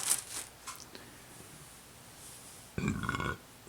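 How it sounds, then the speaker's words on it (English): A single close burp near the end, a short guttural rumble after a few faint crunchy mouth and handling noises, with no talking. "Sorry for burping."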